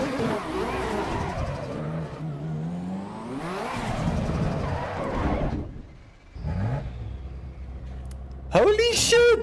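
A race car in Assetto Corsa EVO driving flat out, the engine rising and falling through gears with a loud rev near the end and a brief lull midway, with no talking.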